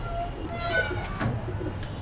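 Close racing pigeons cooing softly in low, throaty bursts, with a few higher chirps and faint background voices.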